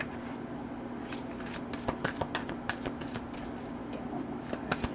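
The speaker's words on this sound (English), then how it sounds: "I'm gonna shuffle the cards as usual, pull, and then we'll start the reading" A deck of tarot cards is shuffled close by, with soft papery riffles and scattered light taps repeating over a faint steady hum. No one speaks during the shuffle.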